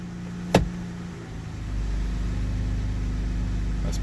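Idling car engine with a low steady hum, a sharp knock as the transmission is shifted into drive, then a deeper, louder engine drone that settles and holds.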